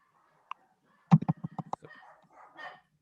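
A dog barks in a quick burst of about half a dozen sharp, fairly close barks, preceded by a single faint yip and followed by a softer trailing whine.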